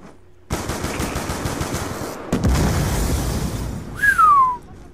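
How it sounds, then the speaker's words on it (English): Black Ops 2 video game combat: a burst of rapid gunfire gives way to a loud booming explosion with a rumbling tail, then a rising whine and a final blast that cuts off abruptly. "Big explosion."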